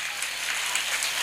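Steady crowd applause fills the hall at a school annual day at Carm School, Vilathikulam, a dense, even wash of clapping that holds at the same level for its brief length with no voices over it.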